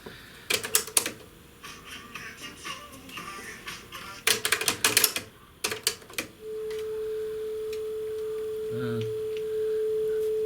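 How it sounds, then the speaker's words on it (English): A 440 Hz test tone plays from a cassette tape in a Sony ZS-D5 boombox with a CD fault. A few mechanical button clicks come first, then a steady, clear sine tone sounds alone until the end. "That's my 440 Hz test tone."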